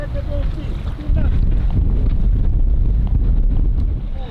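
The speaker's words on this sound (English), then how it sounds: "the wind is picking up" Strong, steady wind roars and buffets the microphone in a low, continuous rumble on a boat moored in a bay in Greece, getting louder partway through, with faint voices underneath.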